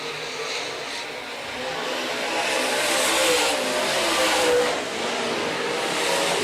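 Tri-State Late Model race cars roar around Rapid Speedway during a heat race. A loud, continuous engine drone swells and fades as the pack passes, with no voice on top.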